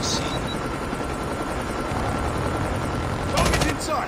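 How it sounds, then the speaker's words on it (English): A stealth chopper in the mobile game Call of Duty Mobile thrums with a steady, loud rotor drone throughout, while gunfire bursts out briefly near the end and game voices can be heard. "Hostile stealth chopper inbound."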